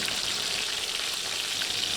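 Fish heads fry in hot oil in a pan, giving a steady, dense sizzle that runs unbroken and fairly close throughout, with no voices.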